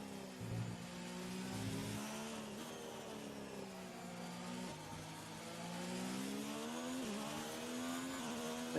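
Formula 1 car engine in the F1 2019 video game, Britain race: a steady, fairly quiet engine drone with shifting harmonic pitch and small revving changes, heard alone without talk.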